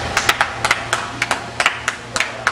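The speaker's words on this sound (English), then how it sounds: "Hey, Dwight, let's give him a round of applause." A handful of people clap in a sparse, uneven rhythm, the individual sharp claps standing out close by for a couple of seconds with nothing else over them.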